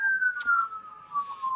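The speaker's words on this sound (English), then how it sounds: "definitely don't be where Anthony's at with the constant sirens" A police siren wails at a distance, a single long tone sliding slowly down in pitch with a brief knock partway through, heard without talk.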